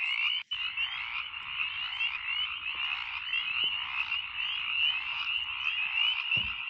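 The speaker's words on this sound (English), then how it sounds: "As long as you hear the frogs, the crickets, and all the insects, everything's all right." Frogs croak in a dense, continuous nighttime chorus with crickets and other insects, steady and fairly close, with no talking.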